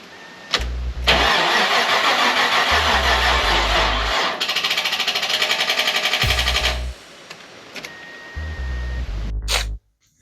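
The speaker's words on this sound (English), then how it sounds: "We're ready to crank this sucker and see what it does." A 1980 Chevrolet Corvette C3 engine cranks over in three loud, rhythmic bursts of starter churning, separated by short pauses, with no catch or start.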